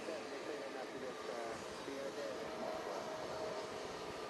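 A JetBlue airliner takes off at JFK, a steady broadband engine roar heard from a distance, even in level throughout, with faint voices in the background.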